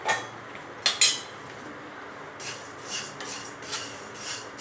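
Vermicelli for sweet sevai is roasted in a pan, with a couple of sharp metallic clinks of a spatula followed by softer, rhythmic scraping and stirring strokes, close and alone.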